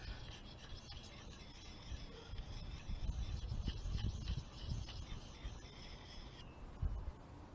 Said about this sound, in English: I'm rocking the knife back and forth to carry it, the sharpening all the way along the belly of the knife